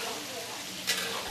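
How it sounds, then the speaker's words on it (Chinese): Dried tofu is stir-fried in a pan at a community kitchen, a steady close sizzle with a brief scrape of the spatula near the end. "豆干下锅翻炒，滋滋作响。"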